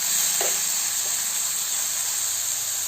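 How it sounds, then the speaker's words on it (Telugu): Pineapple pieces fry in ghee with a steady, loud, close hiss and sizzle that holds evenly throughout, with no voices. "పైనాపిల్ దాన్ని వేసి ఫ్రై చేసుకుంటున్నాను"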